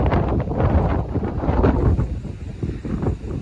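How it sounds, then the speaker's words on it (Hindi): Strong monsoon wind with rain on Kadam Dungar hill in Dang, Gujarat, a steady loud roar buffeting the microphone without pause, with no voices over it. "तेज हवा के साथ आ रही है बारिश"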